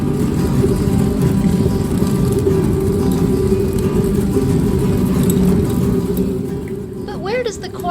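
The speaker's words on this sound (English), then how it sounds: "The runner stone spins, grinding the corn." A runner stone turning against the bed stone at a historic water-powered grist mill grinds corn, giving a steady low rumbling drone throughout, with a faint squeaky tone rising near the end.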